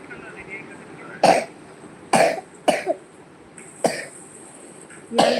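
A person coughs several times in short, harsh bursts spaced about a second apart, close and loud, with a faint background hum between the coughs.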